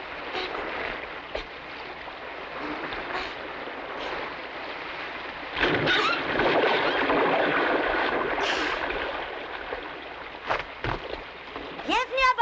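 A raft pushed off onto river water: a broad wash of flowing water and splashing, with surges of sloshing as it slides in and scattered voices around.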